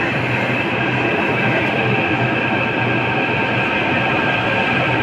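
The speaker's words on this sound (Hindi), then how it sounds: "यात्री कश्मीरी गेट के लिए आ गई मेट्रो" A Delhi Metro train arriving at Kashmere Gate station gives a loud, steady rumble and rolling drone of wheels on rail, close by and continuous, with a faint squeal, and no talk.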